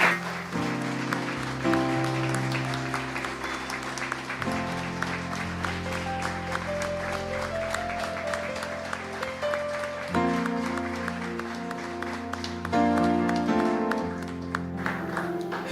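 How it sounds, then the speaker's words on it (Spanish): A church congregation applauds during worship, the clapping steady beneath sustained music with chords and keyboard tones, fairly soft overall. "Le damos un fuerte aplauso al Señor"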